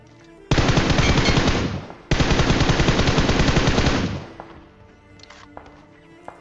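Loud sustained automatic gunfire in the BGMI battle royale game, two long spray bursts of rapid shots separated by a brief gap, followed by quieter scattered in-game sounds and a few distant shots.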